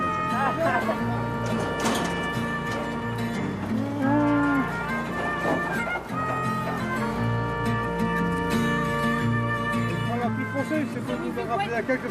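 Cows mooing outdoors on Ouessant island, their long low calls rising and falling in several drawn-out moos over a busy backdrop of continuous talk and ambient noise.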